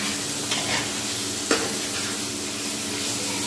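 Fried crabs sizzle as they are stirred into onion gravy in a pan, with steady frying hiss, scraping spatula strokes and a sharp clack about halfway through.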